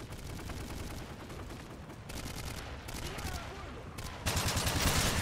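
Rapid bursts of automatic gunfire in Call of Duty: Modern Warfare 3 online multiplayer, repeated volleys growing louder toward the end amid game noise.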